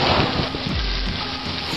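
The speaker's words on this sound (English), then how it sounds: "As you can see, the rain has not relented at all." Heavy monsoon rain in India pours down loud and close, a dense, constant hiss of water with a deep rumble underneath and no break.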